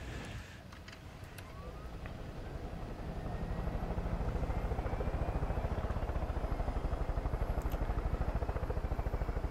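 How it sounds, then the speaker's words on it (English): Helicopter in the video game Far Cry 5 rotors up with a rhythmic thumping chop that grows louder and steadier after a few seconds, running over a low engine rumble with no talk. "Let's get in this helicopter before someone else decides to take it."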